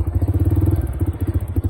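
Bajaj Freedom 125 CNG motorcycle engine just after a silent start, idling with a steady low rhythmic putter close by, no talking.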